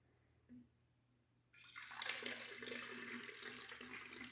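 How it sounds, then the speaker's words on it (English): Cold water suddenly gushes from a tap into an ultrasonic humidifier tank, a steady, close splashing rush that continues to the end after a quiet start. "I'm just filling it with cold water."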